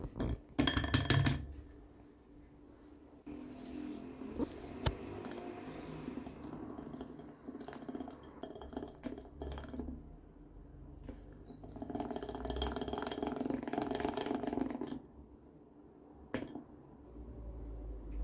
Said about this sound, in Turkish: Ve çırpmaya devam ediyorum.